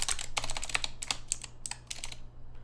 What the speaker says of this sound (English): if I can type it correctly.